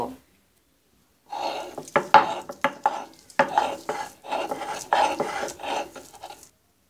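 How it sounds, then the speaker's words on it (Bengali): Boiled bottle gourd seeds are ground on a flat stone grinding slab, with brisk rasping strokes and knocks in a rough rhythm after a second of quiet, close and fairly loud. "এবার আমি সেদ্ধ করা লাউয়ের বিচিগুলো পাটায় বেটে নিব।"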